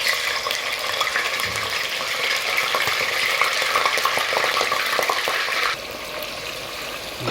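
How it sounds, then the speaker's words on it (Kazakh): Onions for Uzbek plov sizzle and crackle steadily in very hot oil, a dense frying hiss that continues throughout and drops slightly in level near the end. "Соған ақарашқымызды салып қуыратын боламыз. Май өте қызып тұрған"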